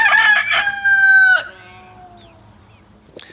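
A young chicken in a backyard flock lets out a loud, close crow, strained and held, then falls quiet. A single brief tap sounds at the end.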